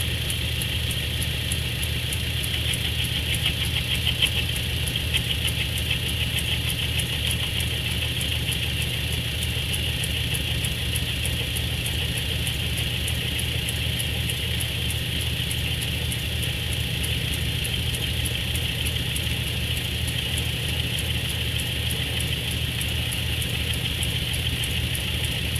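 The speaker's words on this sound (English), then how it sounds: "Lathe has power feed." A metal lathe turns under power feed while shaping hose adapters for a radiator swap, giving a steady, even mechanical hum and whine that runs unbroken for the whole stretch with no talk over it.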